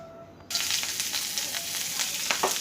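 Food suddenly hits hot oil and sizzles loudly, a steady crackling hiss with small pops continuing close by.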